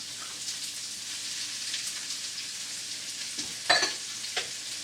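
Onion and sausage sautéing in a pot for jambalaya: a soft, steady hiss of frying with a brief louder crackle and scrape near the end, fairly quiet and alone.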